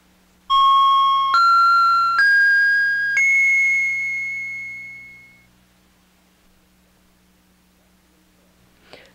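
Four clear chime tones ring in a rising sequence, each struck in turn and left to sustain, then fading slowly into near silence.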